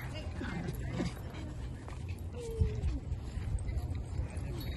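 Dogs whimper and yip softly amid background murmur at a dog park in Canada, with short whiny cries scattered over a few seconds.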